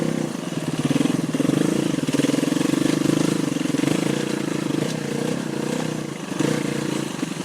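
A KTM enduro motorcycle set up with soft suspension rides rocky trails during hard enduro training in Hawaii, its engine droning steadily and close throughout with small swells in throttle and no talk.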